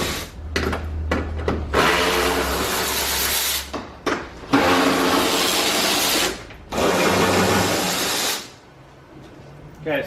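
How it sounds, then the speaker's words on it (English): Power tool buzzing in long bursts as bumper bolts are backed out on a 2014-2019 Kia Soul, three sustained loud runs separated by short pauses and a few brief clicks, close to the work. "So we will start by removing the bolts."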